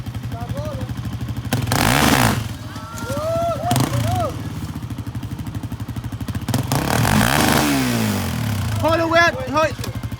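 A new ATV's engine putters unevenly and repeatedly revs up loudly nearby, with people talking over it.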